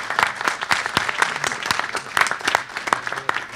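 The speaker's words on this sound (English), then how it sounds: "I would give her a round of applause." Audience applause after an introduction at a presentation on violence against LGBTI persons in San Francisco, dense clapping from many hands, steady and fairly close throughout.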